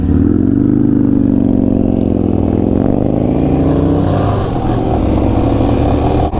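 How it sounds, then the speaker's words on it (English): A motorcycle roars past at close range, loud and continuous with rising and falling engine pitch throughout, no talking over it. "But that bike is proper loud."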